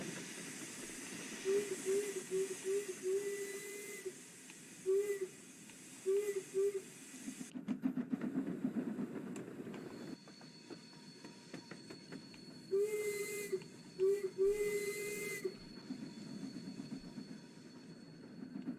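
A steam locomotive in the Train Sim World 2 Spirit of Steam game hisses steadily with a rushing steam sound, broken by repeated short tonal bursts and clanking rail noise, moderately loud and continuous.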